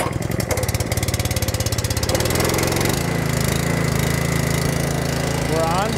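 A Ryobi RY803 gas pressure washer (3,600 PSI, 2.5 GPM) with a Honda GX200 engine runs close by. It starts with a fast, rhythmic idle chug, then rises to a louder, steadier, dense roar that continues to the end.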